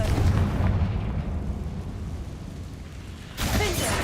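Confringo fire-blast spell explosions in the Hogwarts Legacy video game, a loud burst that decays into rumble before a second blast hits near the end.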